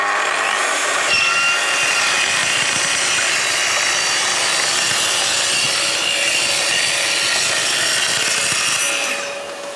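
A Festool TS 55 R plunge saw on its FS guide rail cuts a splinter guard strip, giving a loud, continuous close-up whine and rasp that holds steady for nearly ten seconds before tapering off at the end.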